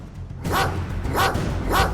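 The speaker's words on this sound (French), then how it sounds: "Ce chien méchant t'aboie dessus." A dog barks three times at a steady pace, loud and close, over background noise in a home setting.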